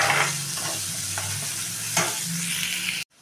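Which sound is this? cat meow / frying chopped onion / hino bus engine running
frying chopped onion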